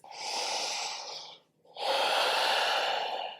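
Slow, close breathing during a yoga forward fold: one long audible exhale, a brief pause, then another long airy breath, clear and unaccompanied by talk.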